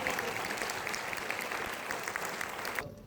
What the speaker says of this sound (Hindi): एक बार ताली बजा के